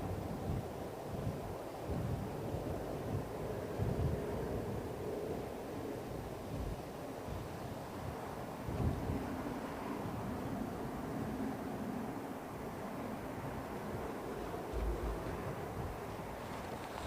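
Blustery wind buffets a microphone outdoors at Heathrow Airport, a continuous broadband roar with gusty swells and low thumps, fairly faint and steady, with no voices.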